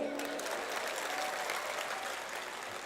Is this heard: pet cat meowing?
no